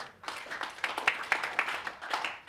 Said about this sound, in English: Good round of applause for Ryan for trying this.